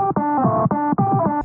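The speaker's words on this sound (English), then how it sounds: "That was fart reverb vocoded to the U.S. national anthem." A fart sound drenched in reverb and vocoded to the U.S. national anthem: short distorted tonal bursts in a choppy, robotic rhythm, loud and close.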